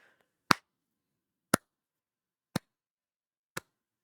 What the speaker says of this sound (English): A clapping sound.